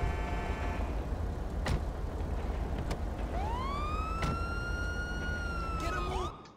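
A police car siren in the video game GTA V with the LSPDFR mod starts partway through and rises into a loud, sustained wail over steady engine and road noise, then cuts off abruptly at the end.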